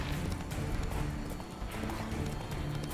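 A horse gallops in the video game Witcher 3, giving a fast, continuous clip-clop of hooves, close and loud, with no talk over it.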